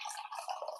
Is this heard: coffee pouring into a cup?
yes